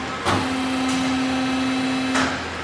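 A JMT DCBA 360 horizontal band saw running in manual mode, giving a steady mechanical hum with a sustained tone and brief clunks or hisses at the start and near the end.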